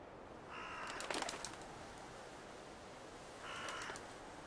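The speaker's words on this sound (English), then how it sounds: "if you walk in an area that has crows, you'll actually be able to realize that besides just seeing them" Crows caw in Fallout 4's in-game ambience: two short clusters of harsh calls, fairly distant and faint, over a steady soft background hiss.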